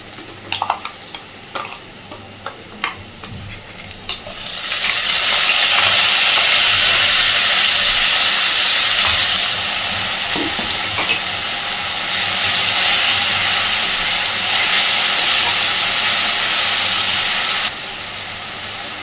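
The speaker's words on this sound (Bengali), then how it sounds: "পেঁয়াজের মধ্যে আদা রসুন আর টমেটো বাটাটা দিয়ে খুব ভালোভাবে আগে একটু কষে নেব" Ginger, garlic and tomato paste is added to fried onions in a pan. After a few seconds of clinking utensils, a loud, sustained sizzle bursts out, eases slightly midway, then cuts back near the end.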